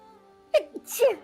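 One sharp sneeze, a quick intake then an explosive burst, close and loud against quiet surroundings.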